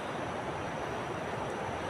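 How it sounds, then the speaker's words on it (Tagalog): Steady, loud wind roaring across the microphone with constant broadband rushing, no pauses or voices. "lakas ng hangin"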